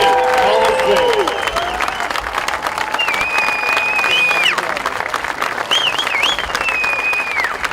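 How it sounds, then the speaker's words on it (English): Crowd at a Simley Hall of Fame ceremony during a high school football game gives a final round of applause and cheering, dense and continuous, while a loud whistle-like tone glides in and out above it. "Ladies and gentlemen, can we have one final round of applause for the class of 2022"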